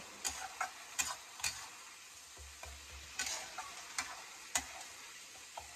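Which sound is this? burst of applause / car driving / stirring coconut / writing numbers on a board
stirring coconut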